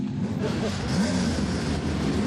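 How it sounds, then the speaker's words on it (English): Race car engines rumble and rev at Barrie Speedway during a CASCAR Super Series race, giving a loud, steady roar with rising engine tones layered under a busy track atmosphere. "Drivers, start your engines!"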